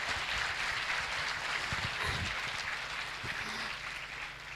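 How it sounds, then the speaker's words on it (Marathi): An audience at the VEDH Latur 2018 talk session gives steady, dense applause that holds for several seconds and tapers slightly near the end, with no voices over it. "मोठ्या टाळ्या होऊन जाऊ देत"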